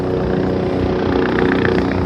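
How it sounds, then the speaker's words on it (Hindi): Helicopter of the Kedarnath helicopter service approaching in the mountains, a steady loud rotor thump and turbine roar filling the whole clip with no talk. "और वो आ रहा है हेलीकॉप्टर"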